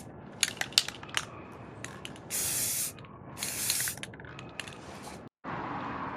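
Two short hissing bursts of spray paint mist a coat onto a car starter from a 1999 Acura RL, with small clicks and rattles before, between and after the sprays.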